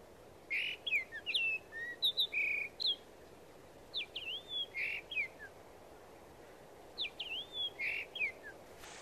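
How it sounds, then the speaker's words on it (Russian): Black paradise flycatchers call near a pine-forest temple, repeated bursts of sharp rising and falling whistled notes in short groups, clear and fairly close over a soft steady insect hum. "Но летние птицы, черные райские мухоловки, еще не закончили планирование своей семьи."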